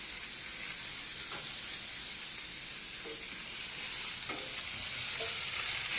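Triangle tip steaks and asparagus sizzle in a hot pan, a dense, steady frying hiss filling the whole stretch, with a few soft clicks of stirring, close and loud, with no talk.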